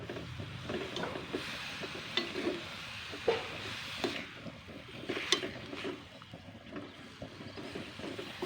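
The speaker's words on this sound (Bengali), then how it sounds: "তো এবার আমি এটাকে একটু নাড়াচাড়া করে নেবো আবারও।" Papaya curry getting stirred in a pan: soft wet scraping and gentle sizzling with a few brighter clinks of the utensil against the pan, close and fairly quiet, with no voices.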